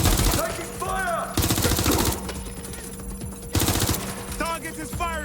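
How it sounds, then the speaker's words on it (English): Rapid gunfire bursts from the video game Watch Dogs Legion, loud and repeated in several automatic volleys, with game character voices shouting between them. "Target is firing."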